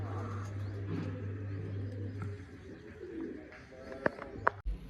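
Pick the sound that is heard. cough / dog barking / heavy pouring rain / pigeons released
pigeons released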